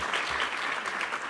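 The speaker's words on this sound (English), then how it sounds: "Yep, go ahead and give that a round of applause." Audience applause at a Black history book event, a brief, even wash of many hands clapping at moderate loudness, heard alone.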